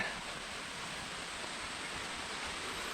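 A steep jungle waterfall on Apek Hill near Kuala Lumpur gives a steady, broadband rush of falling water, heard continuously from nearby with no voices over it.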